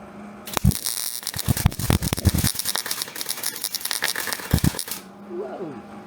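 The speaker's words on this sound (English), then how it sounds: "this is how a rank amateur does welding" Amateur welding on a Jaguar MKII body: a loud, dense crackle and spatter that runs steadily for about four and a half seconds with sharp pops, then stops abruptly, leaving a quiet room tone.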